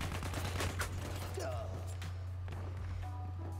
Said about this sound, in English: Why are you shooting at me, man?